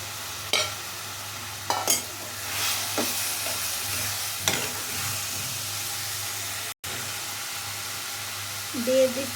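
Onion and garlic sizzle and fry in a pan for egg and masoor dal, with steady crackling broken by several spatula scrapes and stirs, close and moderately loud.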